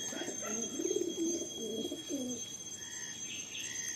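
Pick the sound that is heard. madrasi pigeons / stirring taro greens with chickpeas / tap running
madrasi pigeons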